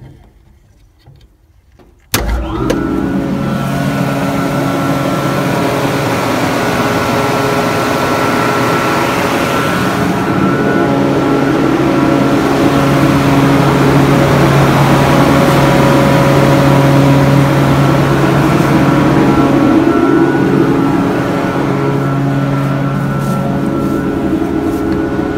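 A three-phase paint booth fan motor switches on with a sudden jump in level, then runs as a loud, steady, droning hum with a constant whir that holds without a break.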